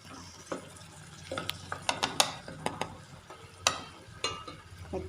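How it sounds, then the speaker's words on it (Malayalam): Brinjal mezhukkupuratti being stirred in a pan, a run of irregular scraping clinks and knocks from a spoon over a faint low sizzle. "വഴുതനങ്ങയിൽ പിടിക്കുന്ന രീതിയിൽ ഇളക്കി കൊടുക്കുക"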